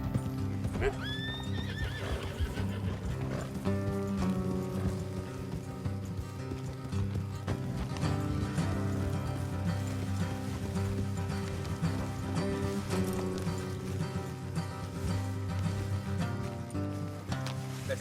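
Several horses trot steadily on a road in the Red Dead Redemption 2 video game, with continuous clip-clop hoofbeats, a couple of whinnies near the start and a soft wash of rain behind them.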